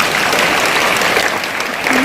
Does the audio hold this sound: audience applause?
yes